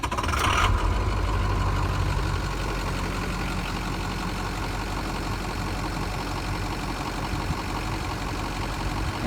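A Ford Powerstroke diesel truck engine, checked for water in the fuel or a due fuel filter change, cranks briefly and then settles into a steady low idle that holds evenly throughout.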